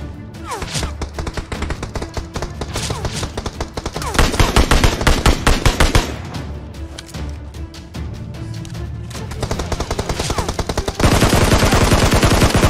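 Loud, rapid automatic gunfire in PUBG Mobile, long rattling bursts broken by brief pauses, with a denser, harsher burst near the end.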